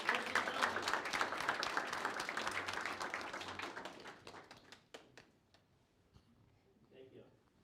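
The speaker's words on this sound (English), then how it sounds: "let's do a great round of applause" An audience at a product meetup applauds after a talk, a dense burst of clapping that holds steady for several seconds and then thins out into a few scattered claps before fading away.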